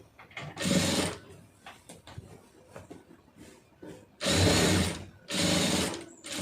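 A sewing machine stitches a blouse in loud bursts: a short run, then a quiet stretch of small clicks and handling, followed by two longer, faster runs near the end.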